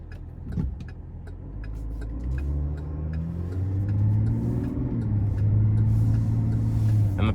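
A 2022 GMC Sierra 1500 Limited SLT Duramax diesel pickup drives and shifts through gears, its engine rumble rising and falling in pitch with each clean shift, heard from inside the cab at moderate loudness.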